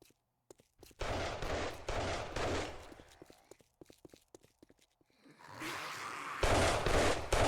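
Rapid bursts of gunfire crackle in the survival game 7 Days To Die, clustered in dense volleys at the start and again near the end, with scattered single sharp shots and quiet gaps between.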